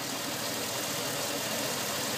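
Steady idle of a 2010 Chevrolet Impala LT sedan engine, a constant even hum with faint knocking texture and no talk, heard close up for about two seconds.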